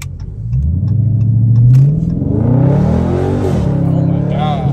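A 2022 Dodge Charger Scat Pack revving hard while cornering through neighborhood streets, a loud close engine roar that climbs in pitch, dips and surges again as it slides around the turn.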